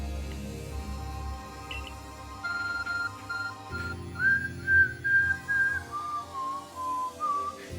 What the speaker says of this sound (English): Hawk phone is beeping.